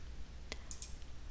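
Two or three quick, crisp mouse clicks while working in a 3D program's UV editor, close and alone against a quiet room hum.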